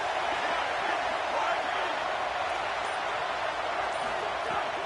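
A home crowd at a football game roars as the defense faces third down, a loud, continuous wash of noise with no breaks from start to finish.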